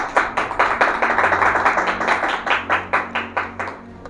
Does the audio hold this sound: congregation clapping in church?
yes